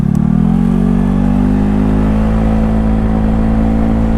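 A carburetted Honda Beat scooter engine, bored up to 130cc, runs loud and close, its pitch rising slightly as it accelerates with a steady, throaty drone.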